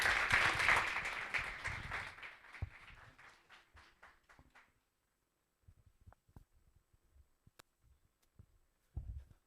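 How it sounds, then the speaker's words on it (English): An audience at a business workshop in Tlhabane claps, a burst of applause that thins out over a few seconds and leaves near silence with scattered faint knocks. "One more time, round of applause."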